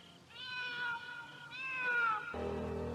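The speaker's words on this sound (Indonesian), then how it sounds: "Ada suara seekor kucing di dalam" A cat meows in an odd, drawn-out way, giving two wavering, high calls in a row, close by and clear against a quiet background.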